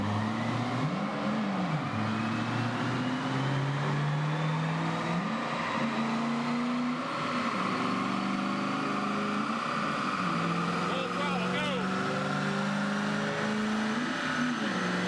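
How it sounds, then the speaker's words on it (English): A car driving with manual transmission accelerates through gears, its engine pitch climbing then dropping at each shift, steady and continuous from inside the cabin with no talking. "Just drive the car like you're going down the street."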